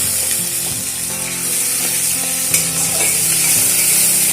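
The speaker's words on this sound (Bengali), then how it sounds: "এবারে বেটে রাখা মশলাটা দিয়ে দেব। এক মিনিট মতন হালকা নাড়াচাড়া করে নেব।" Ground cumin paste frying and being stirred in a pan for a Bengali parshe fish curry, a steady close sizzle with scraping stir strokes throughout, no voices.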